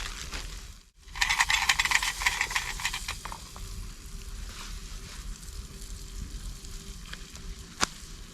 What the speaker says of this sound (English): Fry a onion.